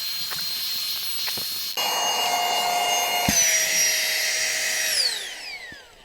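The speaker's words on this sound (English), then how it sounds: "click the button and let the pump do the work" An electric pump draws air out of a clothes storage vacuum bag with a steady close whine and hiss. Partway through it steps up in pitch and strain, then winds down as it stops.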